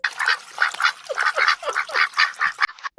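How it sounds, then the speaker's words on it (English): Ducks being fed, a busy flock giving rapid overlapping honking quacks in quick bursts, loud and close, with no talk. "We're feeding ducks."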